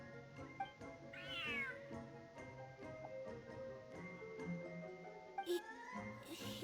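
A cat meowing in the Genshin Impact video game, a single rising-and-falling meow near the start over soft game music with light ticking, followed by a couple of shorter chirps later.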